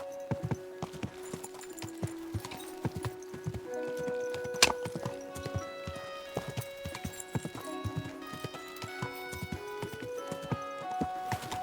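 Horse hooves clip-clopping in the medieval role-playing game Kingdom Come Deliverance II, a steady rapid run of hoof beats under a layered musical score with sustained tones, moderately loud throughout.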